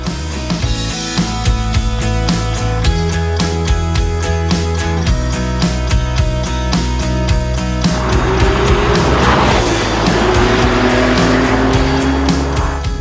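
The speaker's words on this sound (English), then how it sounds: "This is a brand new Porsche 911 with turbochargers" A brand-new turbocharged Porsche 911 drives on roads in the Canary Islands, its engine loud and close with rhythmic pulsing, rising and falling revs, and brief tire squeal.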